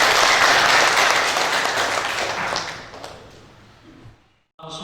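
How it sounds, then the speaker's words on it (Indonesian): Applause from a church wedding congregation after the ring vows, a loud full round of clapping that gradually fades out and stops, followed by a brief pause and a voice resuming. "Tepuk tangan untuk mereka."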